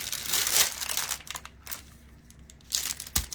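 Parchment paper is handled and crinkled in a sewing room, giving close, bursty crackling rustles that fade briefly in the middle before a few more crinkles and a soft thump.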